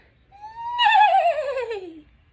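A person's voice imitates a horse's neigh: a single close, loud whinny that rises, then wavers and trembles as it slides down in pitch before cutting off.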